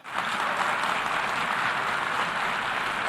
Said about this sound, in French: ça, ce sont d'autres applaudissements de cette nuit